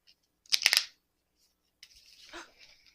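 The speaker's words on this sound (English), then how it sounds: "I feel like I need to shuffle these a little bit better" Quick riffle of cards snapping together in a short burst, followed after a pause by softer sliding and shuffling of the deck, close up.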